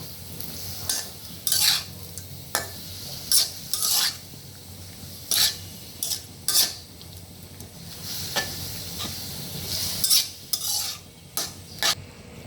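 A utensil stirs wilting bottle gourd leaves in a covered pan while cooking a hilsa fish mash, giving irregular bursts of scraping and rustling strokes over a faint, steady background hiss.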